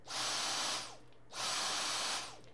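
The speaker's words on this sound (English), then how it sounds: "Now you can hear the vacuum itself is not that loud." Dyson DC44 Animal cordless vacuum on its normal setting: a fairly quiet, airy motor whine that runs twice, with a short dip between the two runs. No one speaks over it.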